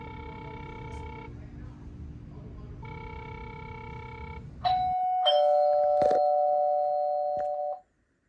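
An ACEBELL wireless video doorbell chime plays a repeating electronic tone pattern, then a brighter two-note ding-dong rings out loud and close before cutting off.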